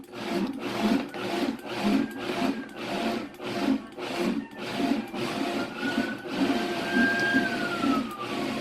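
A blender pulses through a thick batch of cashew whipped cream while a plunger is pushed hard into the jar, giving a steady, loud grinding drone broken by rhythmic pulsing bursts, with no talking.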